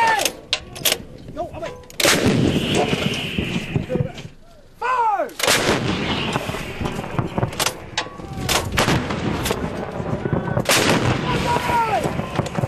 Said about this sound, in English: Canadian guns.